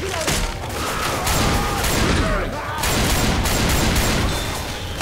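Rapid combat shotgun blasts in Left 4 Dead 2's Dark Carnival, a dense string of loud shots running continuously with brief gaps, booming over a busy game soundscape.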